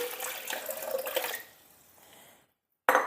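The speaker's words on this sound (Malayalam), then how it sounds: "നമുക്ക് ഒരു മിക്സിയുടെ ജാറിലേക്ക് 2 ഗ്ലാസ് വെള്ളം ഒഴിക്കാം." Water poured from a glass into a mixer grinder jar, a steady splashing pour for about a second and a half that tapers off into quiet, followed by a brief sharp clatter at the end.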